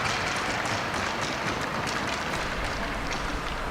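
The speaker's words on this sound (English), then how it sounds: "Both teams just giving each other a clap." Players from both teams clapping for each other after a youth hockey game at the 2017 NSA Hockey Sheffield Cup, a dense, even wash of applause in an arena that holds steady throughout.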